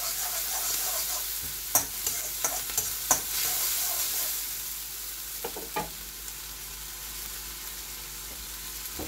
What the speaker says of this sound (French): je vais ajouter les 3 gousses d'ail et le morceau de gingembre en pâte. Voilà, je fais sauter le tout.